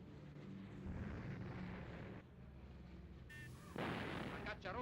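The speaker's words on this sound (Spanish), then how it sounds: "Las baterías antiaéreas entran inmediatamente en acción." Spanish Civil War anti-aircraft batteries pound in a dull, distant barrage of rapid fire, then a sharper burst of firing and whistling noise erupts near the end.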